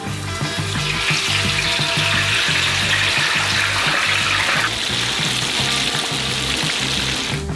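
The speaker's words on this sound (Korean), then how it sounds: "뜨거운 기름에 감자딥을 담그세요." A giant potato piece sizzles loudly in a large pot of hot oil with a continuous bubbling, crackling roar that stays steady throughout.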